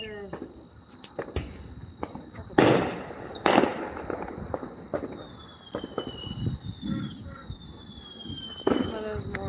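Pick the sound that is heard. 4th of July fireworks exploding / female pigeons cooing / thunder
4th of July fireworks exploding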